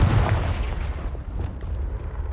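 Confringo blasting spell going off in Hogwarts Legacy, a deep booming blast with low rumble that fades into a rolling, sustained roar over a couple of seconds, close and loud with no talk.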